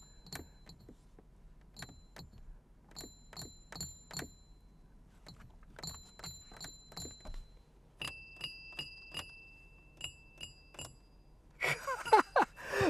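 A series of bright, close, higher-pitched metallic tings in quick clusters from the left all-metal air vent slats of a 2023 Rolls-Royce Spectre, ringing clearly in a quiet cabin, followed by a brief rustle at the end.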